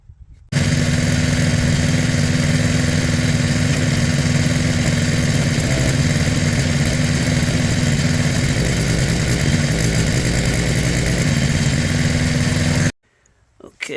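Arc welding lays a bead on a homemade steel wood-burning stove, a loud, continuous buzzing crackle that starts abruptly, holds steady for about twelve seconds, then cuts off into near silence.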